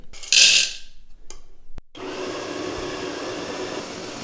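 GRAEF CM800 burr grinder grinding 16 grams of espresso beans at setting 15, with a short sharp burst and some bumps followed by a steady close whirring grind.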